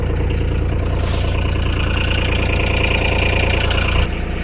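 A diesel pickup truck idles steadily while warming up in a Montana winter, a loud, close, low rumbling drone with a faint knocking texture that stays constant and dips slightly near the end.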